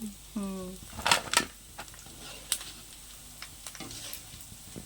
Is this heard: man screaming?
no